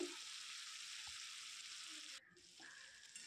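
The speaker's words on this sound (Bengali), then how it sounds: "এটাকে নেড়ে চেড়ে কষিয়ে নিচ্ছি" Tomato and potatoes sizzle and fry in a pan while being stirred for a vegetarian potato, pea and broccoli dish. The frying hisses steadily with a few soft stirring clicks, dipping briefly midway before resuming.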